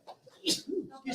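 A single sharp sneeze bursts out at a livestreamed political rally, with indistinct voices and murmurs around it in the room.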